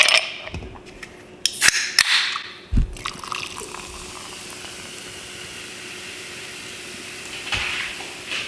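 Waterloo sparkling water, zero sugar, is poured at a dinner table, with a few knocks and splashes at the start followed by a soft, continuous fizzing hiss that fades slightly near the end.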